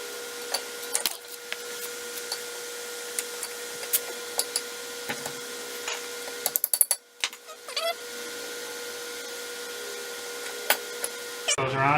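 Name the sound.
fitting brake pads onto Honda Civic caliper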